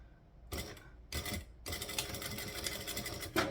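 A sewing machine tacks down a seam in three short bursts of rapid needle clatter, the last running longest, close by with quiet pauses between.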